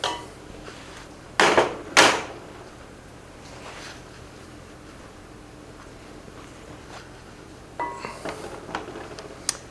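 A roasted turkey neck and vegetables are scraped from a roasting pan into a pot for gravy. A couple of sharp metallic clanks and scrapes come close together near the start, then quieter clinks follow after a long lull.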